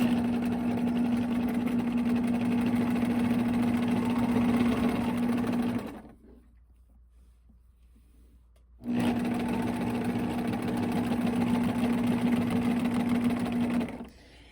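A sewing machine runs steadily while chain piecing quilt pieces, stitching continuously for about six seconds, pausing briefly, then running again for several more seconds, loud and close with a steady hum.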